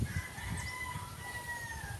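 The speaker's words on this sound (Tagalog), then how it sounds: "Mga manok." Chickens cluck in low bursts close by on a farm while a rooster crows in a long drawn-out call in the background.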